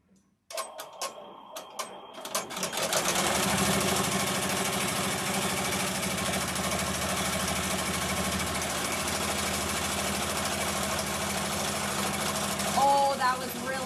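Embroidery machine stitching vinyl in the hoop: a few quick taps, then a steady loud rapid mechanical stitching rhythm running continuously for over ten seconds.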